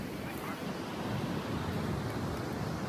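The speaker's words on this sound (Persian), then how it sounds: "دریا اینجا سان دیگو کالیفرنیا، میشن بیچ." Ocean waves at Mission Beach in San Diego, California, roll in as a steady, loud, broadband wash of surf with wind buffeting, continuous and unbroken throughout, with no distinct individual breaks standing out.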